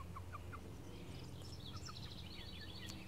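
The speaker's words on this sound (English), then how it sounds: "I'm showing you my chickens." Faint, quiet clucks and short chirping calls from five backyard chickens, scattered over a low steady background hum.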